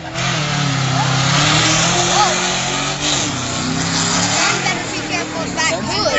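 Engine of a 1985 Subaru four-wheel drive truck revving and pulling through a turn on an off-road truck challenge course, loud and continuous, with an announcer talking over it throughout.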